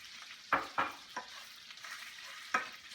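Brown sugar being stirred into melted butter in a Dutch oven for apple pie: a few soft scraping spoon strokes with a faint sizzle between them, quiet and close.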